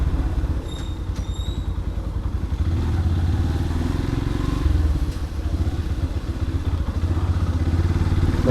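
Motorcycle used as a bike taxi, engine running steadily at medium pitch while riding, with clatter and road noise throughout, close and continuous, no talking.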